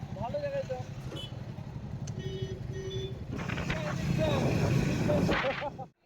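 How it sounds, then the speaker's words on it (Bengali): A motorcycle engine warms up with a steady low rumble that climbs slightly louder midway, runs under ambient noise and then cuts off abruptly near the end. "বাইক ওয়ার্ম আপ করি, দেখি বাইকের কি কন্ডিশন।"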